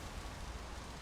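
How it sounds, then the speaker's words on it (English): Steady rain falls in the video game Until Then, a soft, even wash of drops with no breaks, heard alone at a moderate, close level. "Why does it rain when we're together?"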